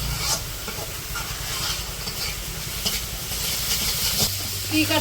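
Vegetables with ginger-garlic paste, turmeric, chili powder and salt being stir-fried in a pan, a close crackling sizzle with repeated scraping strokes, while a voice talks faintly near the end.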